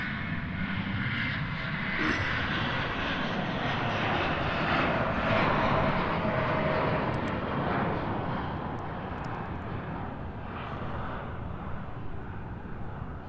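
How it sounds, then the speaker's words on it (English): A jet airliner takes off on the San Francisco flight at Reno airport, a broad sustained engine roar that swells slightly and then holds steady, fairly distant and alone without talk. "that was the San Francisco flight taking off"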